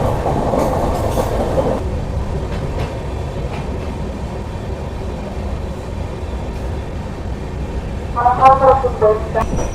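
The Howrah Ranchi Superfast runs steadily on the rails with a loud, continuous rumble and faint clatter, and a brief horn-like tone sounds near the end.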